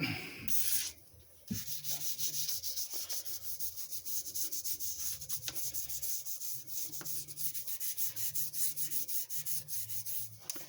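Finish being rubbed by hand onto the wooden stock of a 1944 Mosin Nagant M44 rifle, a close, quiet, continuous scrubbing with uneven back-and-forth strokes and no talk.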